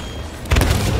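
A single booming shot in the video game Sea of Thieves, a sudden heavy thump about halfway through that leaves a rumbling tail, following a quiet moment.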